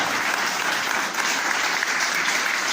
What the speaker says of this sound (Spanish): Denle un buen aplauso al Rey de la Gloria